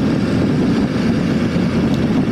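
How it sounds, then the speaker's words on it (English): Engine note of a 2019 BMW F 850 GS motorcycle while riding, a steady, loud, throaty drone mixed with wind rush and no talking. "the engine sounds a little more throaty"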